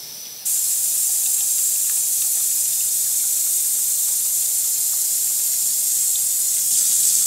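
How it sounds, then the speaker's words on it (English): Water gushes from a sink tap into a plastic bag, a steady loud hissing rush that starts abruptly and runs on unbroken, with no voices. "And then fill it up with water."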